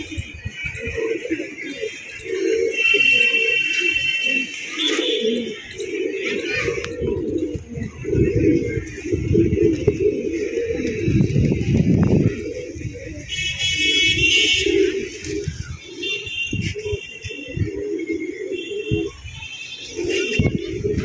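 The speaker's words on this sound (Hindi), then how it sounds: "कुछ कबूतर खुल रहे हैं" Pigeons coo and flutter during a release at dusk in Bijnor, with steady cooing and bird calls over continuous outdoor background noise and occasional buzzing tones, the birds close and fairly loud throughout.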